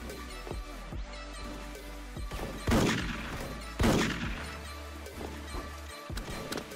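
Gunfire in the online shooter game Special Force, heard as a few sharp shot bursts over a steady low game hum and background noise, moderately loud, with no talking.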